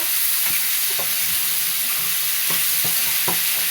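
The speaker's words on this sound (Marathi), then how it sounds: "आपल्याला परतून घ्यायचं चांगलं खालीवर" Egg bhurji being stir-fried on a thick iron tawa, a constant hissing sizzle with repeated scraping strokes of a spatula at an uneven rhythm, close and alone.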